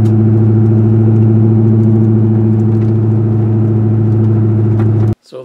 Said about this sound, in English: So I'm going downhill, I can put it in second, get a little speed up here.